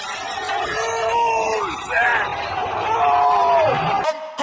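Crowd of onlookers screaming and yelling in reaction to a Ford Mustang driver, a sustained dense wall of raised voices with rising shrieks, close and loud, ending abruptly.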